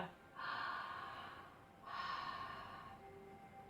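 Two long ujjayi breaths drawn through a constricted throat with lips closed, each a soft, close, hissing ocean-like rush lasting over a second, the second followed by a fading exhale.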